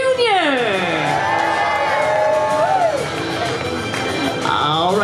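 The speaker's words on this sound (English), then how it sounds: "Let's make some noise for the Baconator" Crowd at a county fair pig race, Manatee County Fair 2024, cheering, whooping and shouting loudly and continuously, with children's shouts rising above the steady roar of the crowd throughout.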